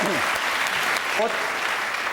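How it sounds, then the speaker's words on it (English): Studio audience applauding a comedian on a TV panel show, a steady dense wash of clapping filling the room from start to finish, with a faint voice briefly audible beneath it. "Give him a round of applause."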